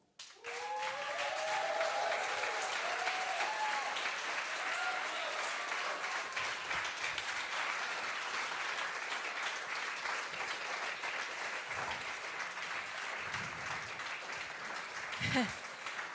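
A live contest-final audience gives a band a long, steady burst of dense applause as it comes on stage, with a few cheers and whistles early on, sustained at an even level throughout.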